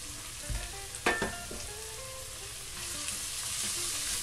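Leek sizzling in a frying pan, a steady close hiss with a couple of sharp clatters as it drops in and gets pushed around.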